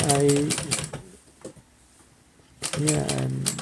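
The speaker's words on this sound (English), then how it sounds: "So I'm gonna stitch from there down to the bottom." Home sewing machine stitching a back pocket onto denim jeans, a quick rhythmic run of motor whir and needle clatter, then a pause with faint handling, then another close stitching burst.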